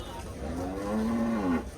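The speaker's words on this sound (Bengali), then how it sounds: "অসংখ্য গরু।" A single cow lets out a long, drawn moo, close and clear, over the busy murmur of the huge Gabtoli cattle market in Dhaka.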